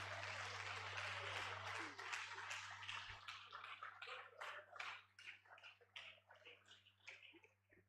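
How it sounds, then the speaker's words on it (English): An audience at a lecture applauds in a dense, fairly faint burst of clapping that thins into scattered individual claps before fading, over a steady low electrical hum. "Please, another round of applause."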